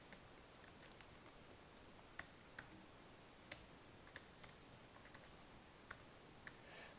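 Quiet typing on a French computer keyboard, irregular clicks and taps scattered over a steady background hiss, with no one speaking.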